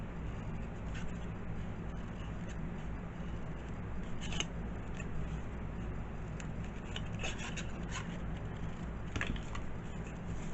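Scissors snip off small paper squares in a run of quiet, close cuts with soft rustling paper between them; nobody speaks.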